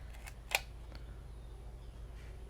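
A Zeiss Ikon Ikoflex II medium format film camera fires its shutter during a speed test, one sharp close click standing out among a few fainter mechanical ticks in a quiet room.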